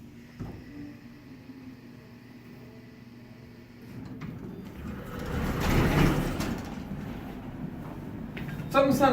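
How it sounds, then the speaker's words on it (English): A Dover hydraulic elevator door at a Sears store, with a replaced motor, slides with a rising rumbling whoosh that swells midway and ends in a louder clatter, amid store ambience. "Something sounded different about the door."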